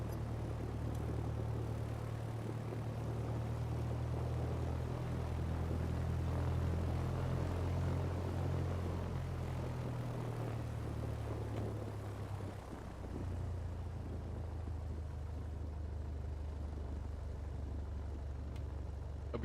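A Piper Warrior propeller plane taxis in a flight simulator, its steady low engine drone and propeller hum running loud and continuous, with a slight dip in pitch partway through.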